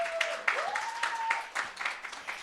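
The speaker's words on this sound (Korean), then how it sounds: "큰 박수 한번 부탁드릴게요." An audience at a live company meeting gives scattered applause, a light patter of claps with a whistle-like tone running through the first half.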